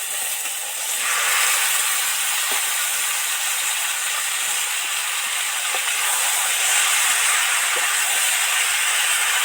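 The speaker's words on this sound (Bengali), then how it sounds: "এবার এর মধ্যে এই যে সবজি সিদ্ধ করা সবজিটা এর মধ্যে দিয়ে দেবো" Boiled pumpkin and other vegetables tipped into hot oil in a pan, setting off a loud, steady, close sizzle that bursts in after a second and hisses on continuously without pause.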